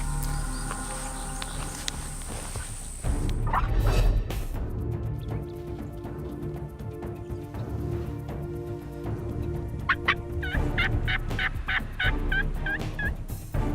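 Wild Rio Grande turkey gobblers in South Texas brush country call several times, with loud gobbling bursts near the start and a rapid series of repeated gobbles and clucks later, over steady outdoor background noise; no one speaks.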